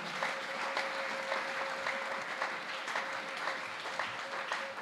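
A church congregation applauds in acclaim of the Lord Jesus during a worship service, a dense steady clapping that runs throughout with a faint held tone underneath.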